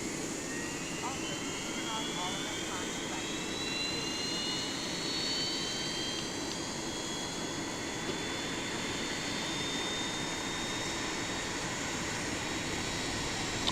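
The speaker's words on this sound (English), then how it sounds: "So engine number 2 is Starting going on." An Airbus A320 jet engine spools up during start in the X-Plane 11 flight simulator, a steady loud turbine roar with rising high whine tones building over several seconds, heard from outside the aircraft.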